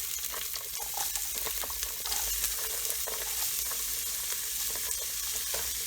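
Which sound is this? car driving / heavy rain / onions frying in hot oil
onions frying in hot oil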